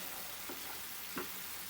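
A jaggery and banana mixture cooking in a pan for Malabar unnakaya gives a faint, even sizzling hiss, with two soft scraping stir strokes; no voices.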